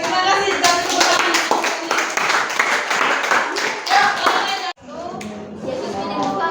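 Children in a classroom clap their hands in quick, dense bursts for several seconds, then the clapping stops abruptly. Children's voices and room noise follow.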